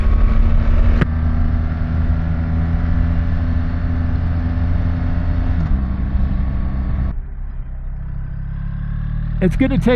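A BMW R1300 GS motorcycle rides through traffic with a loud, steady engine drone and rushing wind, then the engine note drops as the bike slows near the end.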